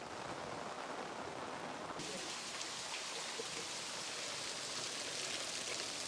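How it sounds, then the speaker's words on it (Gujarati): Heavy rain pours down on a farm, a dense, steady hiss of drops close by that swells louder after the first couple of seconds and keeps going without pause; no one speaks. "વરસાદ જ એવડો પડે મેળી ઉપર જોઈએ કેવો પડે છે"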